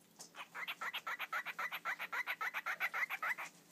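A pet bird gives a rapid series of about twenty short, rhythmic squawking chirps in steady succession, fairly faint and heard alone without talk.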